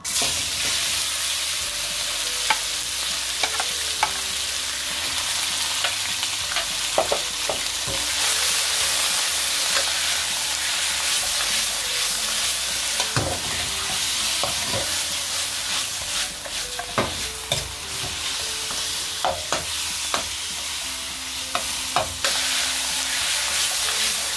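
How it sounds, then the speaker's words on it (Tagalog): Pinoy beefsteak, Filipino-style beef slices, frying in oil in a hot kawali, a loud sustained sizzle and hiss with scattered scrapes and knocks of stirring throughout, no speech. "ilagay po natin sa ating mainit na kawali"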